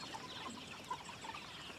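Chickens cluck softly in a farm field pen holding roughly ninety birds, a low continuous chorus of overlapping clucks heard from close by with no talking.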